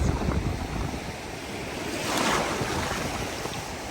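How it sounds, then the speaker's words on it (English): Ocean surf breaking on a Florida beach shore, a steady wash of waves that swells and then recedes, mixed with wind rumbling across the microphone, with no voices. "But the beach is my happy place."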